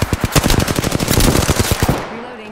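Rapid automatic gunfire in Apex Legends, a loud close burst of evenly spaced shots lasting about two seconds before cutting off, followed by a faint tonal in-game sound.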